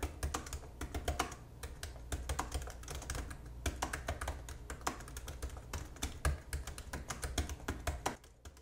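Typing on an Apple Magic Keyboard 2 in space grey, a rapid, irregular run of soft, close key taps that continues throughout, with no talk.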